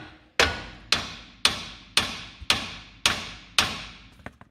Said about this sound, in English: all I have to do now is hit it with the hammer there, and that should release it now